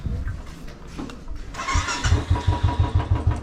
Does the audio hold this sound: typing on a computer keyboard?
no